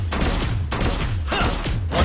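Video game gunfire in a competitive shooter match: three heavy, booming shots spaced about half a second apart, each with a deep low thud and ringing tail, loud and close with no talking.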